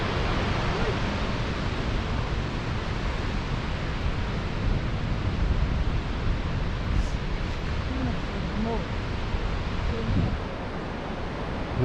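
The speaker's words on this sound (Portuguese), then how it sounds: "Ó, barulho de muita água." A large volume of rushing water roars steadily in the forest of Huilo Huilo park, a dense, continuous wash of noise with faint voices now and then beneath it.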